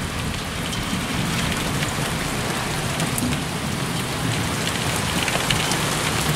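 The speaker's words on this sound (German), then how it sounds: "Der Regen nimmt zu." Heavy rain pouring down during a thunderstorm, a dense, constant hiss of drops striking surfaces close by, steady and loud throughout with no distinct thunder and no voices.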